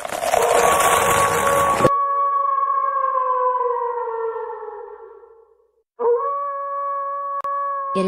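Wolves drawn out by intense cold howl as a radio drama effect, long sustained wavering howls that slowly fall in pitch, a pause, then a fresh howl rising again, loud and close.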